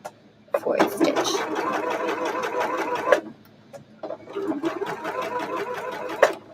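A sewing machine stitches a dart in a shirt, running forward and then in reverse, its fast rhythmic needle clatter loud and close in two bursts separated by a brief pause, with a voice speaking over it.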